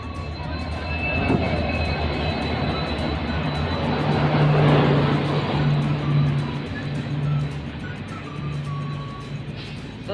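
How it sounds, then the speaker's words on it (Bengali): A train rumbles in steadily, loud and continuous, with a low drone that swells in the middle of the approach. "এই যে ট্রেন আসছে আসছে।"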